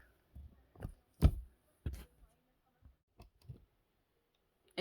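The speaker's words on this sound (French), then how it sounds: "j'ai pris un massicot, une chute de craft" Paper trimmer slicing a scrap of kraft paper, heard as a series of short, separate clicks and snaps at an uneven pace, close and fairly quiet, with no voices.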